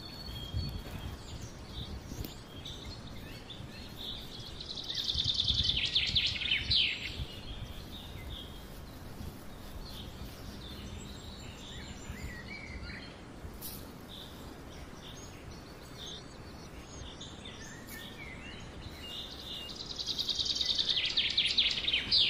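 Small birds chirping outdoors in a quiet setting, with two clear bursts of high twittering calls, one early and one near the end, over soft steady background ambience.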